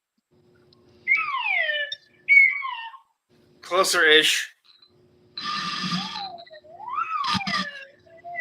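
Slide whistle sound effects in a novelty backing track, with sliding pitched glides rising and falling several times in quick, uneven bursts, alongside music-like tones, with a voice speaking briefly over them.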